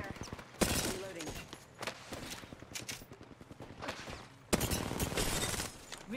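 Gunfire in a PC squad shooter game, rapid bursts of shots popping up repeatedly across the clip, with two heavier sustained volleys, mixed with faint game sounds.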